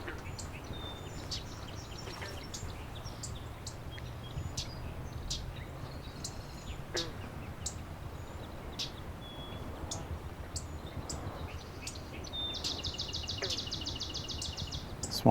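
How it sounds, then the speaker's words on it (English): A swamp sparrow sings from an unmaintained marsh boardwalk: a fast, even trill of repeated notes toward the end, set against steady wetland ambience with scattered chirps and insect hum. "There's our swamp sparrow."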